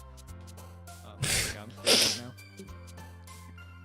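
A loud sneeze bursts out over background music, followed by a second sneeze-like burst, with a voice talking briefly.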